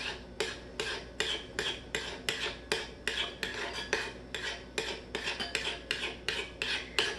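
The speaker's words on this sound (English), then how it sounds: "Make sure you stir it well." A spoon scrapes rhythmically through tomato sauce as salt and pepper are stirred in, giving about twenty quick, even strokes against the pan, close and clear with no talking.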